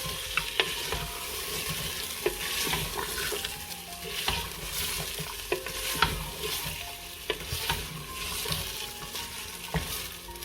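Meat being stirred and fried in a pot, a continuous sizzle broken by repeated scraping and clinks of a utensil against the metal, close and moderately loud, no voices.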